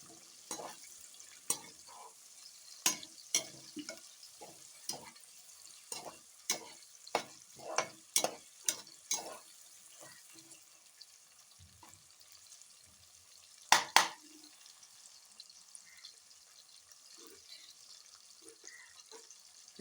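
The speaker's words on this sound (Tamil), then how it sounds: "நல்லா டீப் ஃப்ரை ஆகணும் வெங்காயம்" Onions deep frying in a pan for a seeraga samba mutton biryani, with a faint low sizzle beneath a string of sharp, irregular clatters from stirring in the first half and a couple of loud knocks later, no talking.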